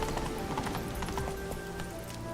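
Roach, the horse in The Witcher 3, gallops in a quick clip-clop rhythm over a dense bed of game music and ambience, hoofbeats moderately clear but partly blended into the mix.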